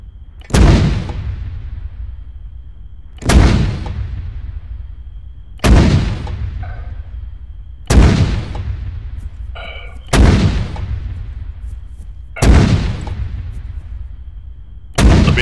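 Artillery rounds fired one after another in a military game, seven loud booming shots at an even spacing of about two seconds, each trailing off in a long rumbling tail.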